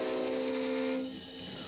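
Freight train at a railroad crossing sounding a sustained multi-tone horn, loud and steady, cutting off about a second in while the rumble of passing cars continues beneath.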